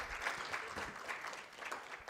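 Steady applause from an audience, a dense wash of many hands clapping together at moderate loudness, with no voices standing out.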